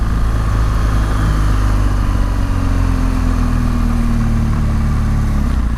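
A BMW R 1200 GS Rallye motorcycle engine running while riding, a loud continuous drone that rises gently in pitch over several seconds, close and alone with no voices.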